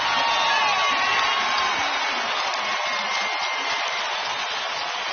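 A packed basketball arena crowd at game 5 of the 2014 NBA Finals roars and cheers after a Ginobili three-pointer, a dense, steady wall of noise that stays loud from start to finish with no distinct voices standing out.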